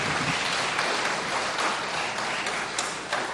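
Congregation at a Sunday afternoon church service clapping to welcome the preacher: a continuous, moderately loud wash of applause from many hands, unbroken and steady across the short stretch.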